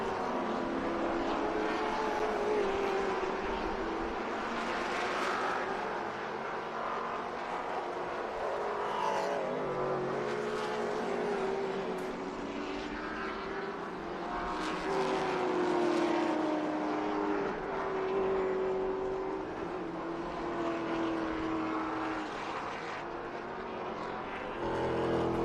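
Race cars at Barber Motorsports Park in Birmingham, engines droning and rising and falling in pitch as they pass, heard from a distance at moderate loudness with no talk over them.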